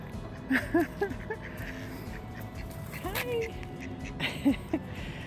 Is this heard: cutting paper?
no